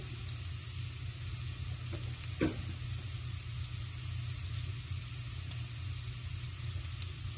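Steady hiss of sizzling oil over steamed fish as parsley and green onion are added, a continuous close frying sizzle with a brief crackle midway.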